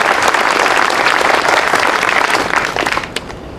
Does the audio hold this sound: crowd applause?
yes